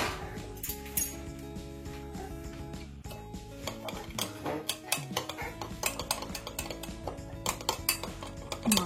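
A spoon stirring water and yeast with a pinch of sugar in a bowl, repeated clinks and scrapes of metal against the bowl over soft background tones, close and irregular.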